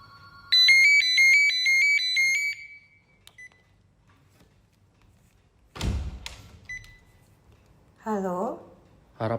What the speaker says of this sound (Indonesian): Gak lama berselang, kembali datang suara telepon.